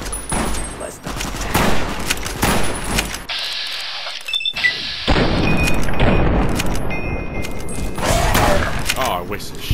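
Gunshots and booming blasts in Fallout New Vegas, loud and close with several shots and a brief metallic click, under talking.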